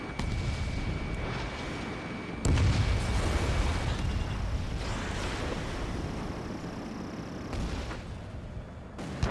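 Heavy explosions and anti-air fire rumble through an Ace Combat 7 air battle near a SAM site, a dense, loud, continuous wall of blasts and booming low roar with sharper impacts, and no speech.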